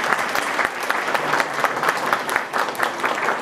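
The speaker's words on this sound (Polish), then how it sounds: "Brawa gorące dla was oczywiście." An audience applauds warmly at a Christmas carol group and nativity play festival, producing dense, lively clapping that stays loud and steady throughout.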